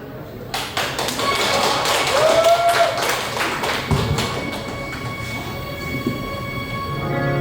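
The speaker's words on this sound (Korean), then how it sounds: "여러분 다시 한번 박수 부탁드리겠습니다" Wedding guests at a wedding hall applaud during the ceremony before the bride and groom's march, a steady spread of clapping lasting several seconds with music entering near the end.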